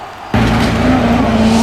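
A diecast rally car, a 2008 yellow Mitsubishi Lancer Evolution GT, rolls fast down a toy track, starting abruptly with a steady, close rumbling whir that holds on to the end without a break.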